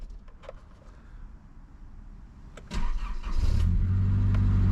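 A car engine is cranked and catches after a quiet pause, with a few faint clicks before a rising churn that settles into a loud, steady running hum.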